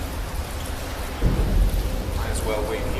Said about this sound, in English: it started to rain, so I'm going to wait it out under the bridge.